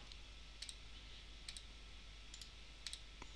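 Computer mouse clicks sound in quick pairs about four times over a quiet background hum, crisp and close.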